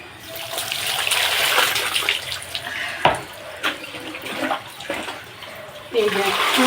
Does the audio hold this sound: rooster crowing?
no